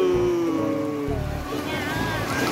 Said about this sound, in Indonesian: Airnya datang, Nah.